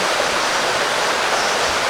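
Mae On waterfall pouring beside a cafe in Chiang Mai, a dense, steady roar of rushing water with no voices over it.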